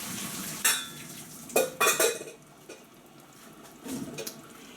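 Cooked tagliatelle tipped from a pan into a colander, with a few splashing pours of water and clattering bursts spread over several seconds at close range, no talking.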